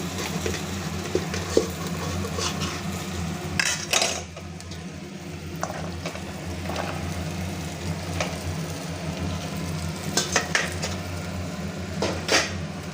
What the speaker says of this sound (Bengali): এই কড়াইটায় আমি সবজিটা ঢেলে দিচ্ছি